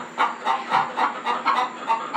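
A broody hen sits in a nest box, giving a steady run of close, rhythmic clucks about every quarter second, alone with no talk.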